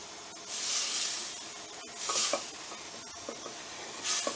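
Butter melts and sizzles in a pan while being spread around for quesadillas, soft hissing swells rising and fading with a few light scrapes and clicks, close and fairly quiet.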